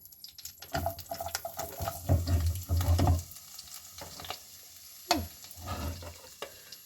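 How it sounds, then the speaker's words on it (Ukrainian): Onion fries in butter and oil, sizzling and crackling in a pan while it is stirred, with bursts of louder frying and clattering utensils between quieter stretches. "От нас гарно як шкварчить."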